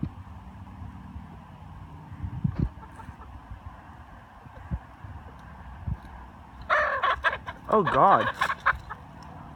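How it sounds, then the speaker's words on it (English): Chickens squawk and cluck in an agitated flurry as they fight toward the end, after a stretch of low wind noise and scattered thumps; a voice speaks briefly. "Chickens, why are you fighting?"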